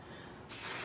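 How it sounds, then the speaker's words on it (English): A brief, quiet background hiss, then a sudden loud spray of IGK Good Behavior heat protectant hair spray that sprays steadily until the end. "this is the heat protection I use"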